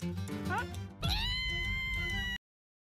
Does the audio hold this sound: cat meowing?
yes